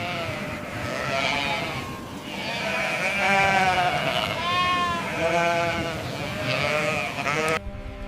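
A flock of Dorper sheep bleats in overlapping calls, several wavering cries rising and falling one after another at close to moderate distance, with no talking.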